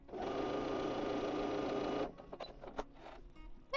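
Sewing machine runs a straight stitch for about two seconds with a fast, even motor whir, then stops, followed by quiet clicks and fabric handling.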